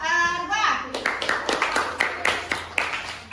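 A short burst of scattered hand clapping from a small group follows a brief spoken line, claps uneven and close.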